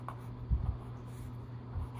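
Pen on paper in a notebook: a faint, close scratching with a brief burst of soft strokes and a lighter touch near the end, over a quiet room hum.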